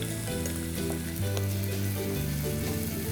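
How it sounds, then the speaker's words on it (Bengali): Chopped onions, about one and a half cups, dropped into hot oil for a lentil khichuri, frying with a steady loud sizzle throughout, with tonal background music over the top. "এখন আমি পেঁয়াজ কুচি দিয়ে দিচ্ছি।"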